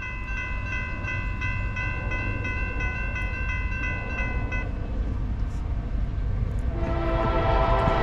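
A westbound Norfolk Southern freight train passes through Piscataway, New Jersey, with a steady loud rumble. Its multi-tone horn sounds for the first few seconds, then shifts to a lower pitch as the train continues by.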